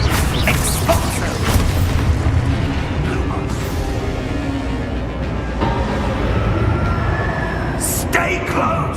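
An Expulso spell bursts in Hogwarts Legacy, a loud, rumbling boom of explosive debris and crackling noise that fills the scene, with voices speaking over it.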